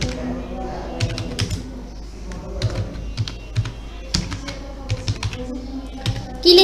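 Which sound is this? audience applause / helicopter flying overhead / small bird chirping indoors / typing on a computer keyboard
typing on a computer keyboard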